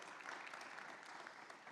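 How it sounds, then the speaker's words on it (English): Audience applause at CMPL Expo 2025, a business founders' event: a dense, steady wash of clapping from a crowd, sustained evenly for the whole moment without a voice over it. "Come on, a huge round of applause."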